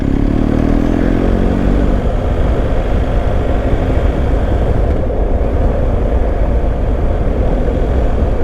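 A motorcycle rides along a coastal loop road in Ireland toward Omey Island, its engine a steady, loud close drone for the whole stretch. Early on the pitch climbs and shifts as the rider changes gear, with strong wind rumble.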